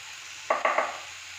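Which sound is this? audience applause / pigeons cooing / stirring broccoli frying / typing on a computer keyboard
stirring broccoli frying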